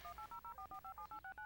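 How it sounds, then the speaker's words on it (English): A rapid sequence of eleven evenly spaced telephone touch-tones as a phone's redial button dials out, each short dual-tone beep clear and quiet, with no talking. "just hit the redial button and let's get out of here."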